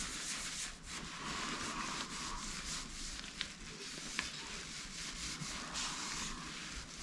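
Steady soft rubbing of carnauba-wax polish containing oils and pumice onto a wooden wedding cake stand, a continuous close, quiet brushing hiss with a couple of faint ticks.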